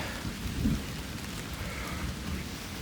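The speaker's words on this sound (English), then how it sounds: "we've gotten into a thunderstorm. So a little thunder, lightning, rain, makes everything a little slicker." Thunderstorm on the Appalachian Trail in the 100 Mile Wilderness, with steady rain pattering and a low rumble of thunder rolling beneath it, continuous and fairly close throughout.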